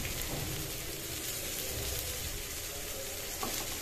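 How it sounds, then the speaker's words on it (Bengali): Sweet pumpkin pieces fry in a pan, a dense and even sizzling hiss that holds steady from start to finish with a faint pop near the end. "এখানে আমার মিষ্টি কুমড়োগুলো ভাজি প্রায় হয়ে গিয়েছে"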